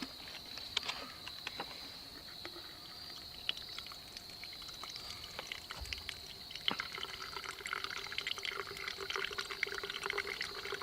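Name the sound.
water squeezed from a bag through a water purifier filter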